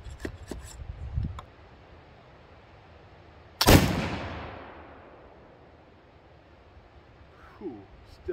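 A Pedersoli Kentucky pistol fires once at about 15 yards, a single sharp, loud report with a long fading tail, set between quiet stretches that hold a few faint knocks and rustles.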